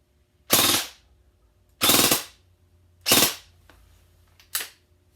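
An E&L AK airsoft rifle fires four short bursts on full auto. The bursts are sharp and loud, spaced about a second apart with quiet gaps between them, and the last burst is briefer.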